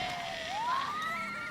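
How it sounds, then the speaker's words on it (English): An ambulance siren wails on the road, a sustained rising tone sweeping upward, loud and fairly near, with no voices. "the ambulance comes down the road with the blaring horns"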